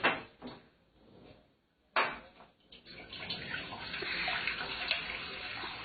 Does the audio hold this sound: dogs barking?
no